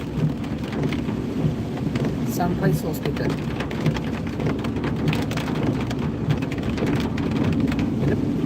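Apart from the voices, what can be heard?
rain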